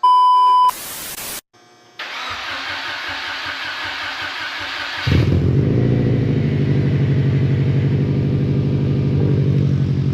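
A 2012 Subaru WRX fitted with a Cobb 20g turbo cranks and fires up, then settles into a loud, steady idle with a throaty low rumble. A brief beep comes just before the start, and the engine is heard close up with no talking.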